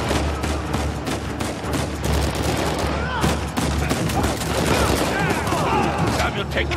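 Rapid video game gunfire in Uncharted 4 during a scuba diving chapter, dense bursts of shots crackling continuously and loudly, with a player's voice speaking over the firefight.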